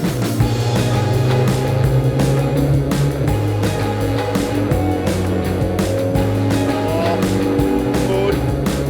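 Boat engines roar at full throttle near 6,300 RPM during sea trials, loud and sustained, with rhythmic thumps of the hull against the water running through the sound.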